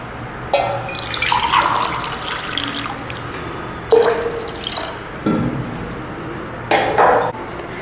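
Water for rava kudumulu, about two and a half glasses, is poured in a home kitchen, coming as short intermittent splashes and trickles with occasional clinks of vessels.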